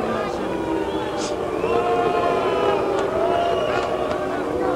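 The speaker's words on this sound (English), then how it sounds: "Now the crowd is voicing some dissatisfaction with the performance" Boxing arena crowd during a bout between Rubin "Hurricane" Carter and Jimmy Ellis, a dense, steady murmur of disgruntled voices and booing that holds loud and unbroken throughout.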